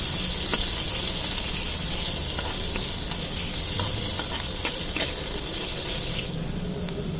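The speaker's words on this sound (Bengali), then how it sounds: "এই পেঁয়াজটা নাড়ছি, পেঁয়াজটা একটু ভাজবো" Onions frying in hot oil in a pan while being stirred for a spicy Hyderabadi egg curry, a steady close sizzle with scattered scraping clicks throughout, no talking.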